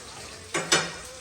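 Surmai (kingfish) frying in a pan at a village fair, a steady background hiss broken by two short, loud bursts of sizzling, with no talk.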